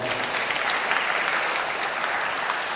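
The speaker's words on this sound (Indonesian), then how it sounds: "Boleh dong kita kasih tepuk tangan untuk kebaikan Tuhan" A church congregation at a Christmas youth service applauds, a sustained, thick wash of many hands clapping together, steady and fairly loud throughout with no speech.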